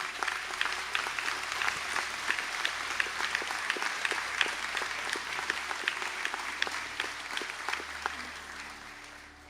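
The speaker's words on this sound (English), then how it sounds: "for a round of applause." Steady applause from a large audience at a college conferring ceremony, sustained for several seconds at moderate distance and gradually tapering off at the end.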